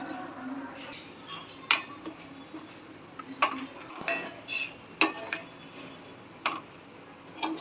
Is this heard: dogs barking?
no